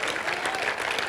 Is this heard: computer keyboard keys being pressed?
no